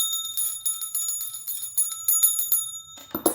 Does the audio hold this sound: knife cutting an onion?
no